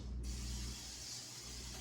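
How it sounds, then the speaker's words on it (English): A kitchen spritzer pump bottle spraying cooking oil, a short hissing spray burst at close range that tapers into quieter hiss. "spray it in there. So this is called the kitchen spritzer."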